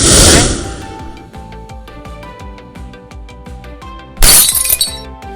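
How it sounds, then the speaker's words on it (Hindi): A magic clay pot falls and shatters in a cartoon, with a bright crash of breaking at the start and another burst near the end, and rhythmic background music in between. "और गिरते ही घड़ा टूट गया"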